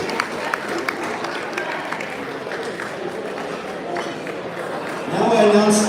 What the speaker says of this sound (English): Big round of applause for our third place in that team.